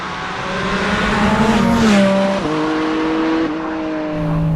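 A Porsche Spyder RS engine revs hard toward high RPM on a track, its loud, rising tone stepping through gear changes and briefly dipping before climbing again, with faint tire squeal near a hairpin.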